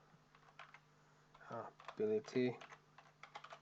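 Clicking keystrokes on a computer keyboard, typed while building a formula in a project management database, come in quick close bursts mixed with a person talking.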